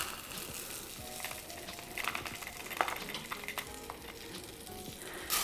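Rice grains sizzling and crackling in melting butter in a cooking pot while being stirred around, a steady soft frying hiss with small scraping clicks and a brief brighter burst near the end.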